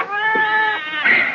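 Two drawn-out, close cat meows from the household cats in a radio drama scene, the first long and wavering and the second rising after a brief pause, with no talk over them.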